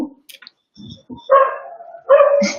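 A dog barks and yips close to the microphone in a few short, sharp bursts, with brief whimpery sounds between them, loud against an otherwise quiet background.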